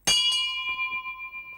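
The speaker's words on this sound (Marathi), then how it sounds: "अशी घंटा वाजून जर माणसं मोठी झाली असती ना" A single metal bell struck once, close and loud, its clear tone ringing on and slowly fading with a pulsing shimmer over about a second and a half, with no voices.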